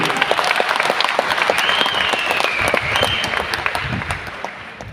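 An audience at a business meeting applauds a mentor, dense sustained clapping filling the room from start to end with a faint whistle rising briefly over it.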